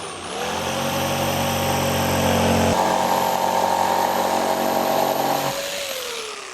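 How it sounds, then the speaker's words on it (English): A jigsaw cuts straight down a line through carpet, a loud, close, continuous motor buzz that spins up, shifts pitch midway as the cut changes, then winds down. "Just make sure your carpet's clear of where you're going to cut with your jigsaw."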